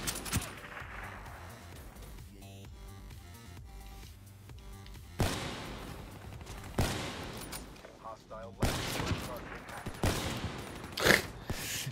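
P-06 submachine gun fire in Black Ops 3 rattles in repeated bursts over a dense, busy game soundtrack, steady and moderately loud throughout.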